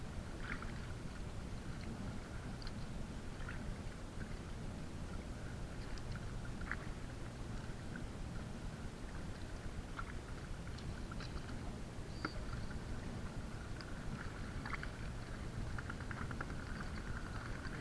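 Traditional wooden long-hull boat moving across water near shore, a steady low churning wash with faint intermittent knocks and splashes throughout, fairly quiet and continuous, no voices.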